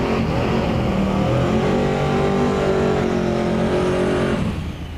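Chevrolet C6 Corvette drag car accelerating hard at a drag strip, a loud, close, continuous engine roar climbing steadily in pitch before easing off at the end.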